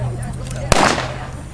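A single sharp gunshot cracks during a real gunfight in Spurger, Texas, one brief loud report standing out against a low background hum.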